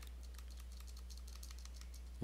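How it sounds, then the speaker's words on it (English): Volume keys on a computer keyboard are pressed repeatedly, producing a series of faint, quick, irregular taps over a low steady hum. "I'm doing that with the uh, volume keys on my keyboard"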